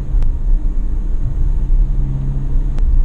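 Ferrari Portofino V8 engine, a loud steady low rumble heard from inside the car under way, with two sharp brief pops on gear shifts near the start and end.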